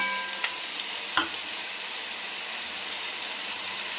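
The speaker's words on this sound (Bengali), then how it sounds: "পটলটা এখানে ভাজা হচ্ছে, আর এখানে আমি তেল গরম করতে দিয়েছি" Pointed gourd (potol) fries in hot oil with a steady, close hiss of sizzling and a couple of sharp clinks from a utensil early on.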